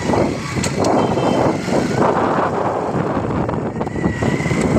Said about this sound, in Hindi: ये देखें माशाल्लाह मोटरसाइकिल हमारा जो है चल पड़ा है।